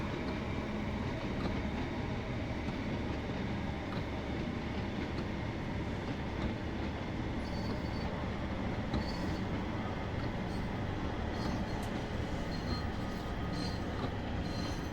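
A train pulling into the Penzance terminus in a train simulator game, a steady, dense rumble of wheels and running gear with faint squeals, continuous and moderately loud throughout.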